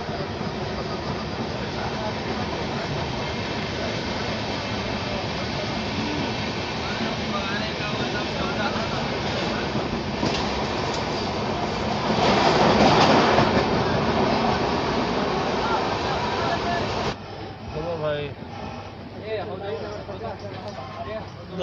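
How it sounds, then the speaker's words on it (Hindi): A passenger train running just after leaving Dildarnagar station gives a continuous close rumble with clickety-clack wheel rhythm from inside the carriage, under faint talk, easing slightly near the end. "दिलदार नगर से अपने ट्रेन का डिपार्चर हो चुका है"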